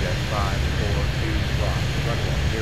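Plane engine drone from the airport video game Airport Madness 3D as a flight goes around at Miami: a steady, loud broadband roar throughout, with a voice talking over it.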